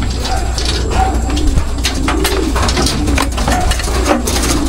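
Racing pigeons at their loft give soft, repeated low cooing calls over a steady background hum, with faint clicks and shuffling in between.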